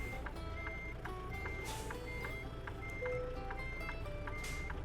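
In American Truck Simulator, a truck's reversing alarm beeps in a steady, regular rhythm at moderate loudness over a constant low engine hum as the rig backs into a dock.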